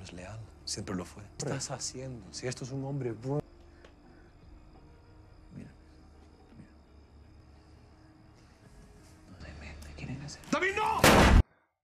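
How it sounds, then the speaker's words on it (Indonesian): Someone talks over a quiet scene from the 2015 crime film Mafia Narcos, then a loud burst of gunshots cracks out sharply right at the end. "Namun tiba-tiba David melepaskan tembakan"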